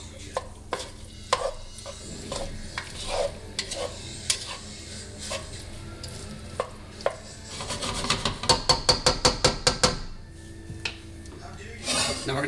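A spoon stirs chili ingredients in a frying pan, scraping and clinking against the metal at an irregular pace, then a quick run of rhythmic taps near the end, with a faint sizzle underneath.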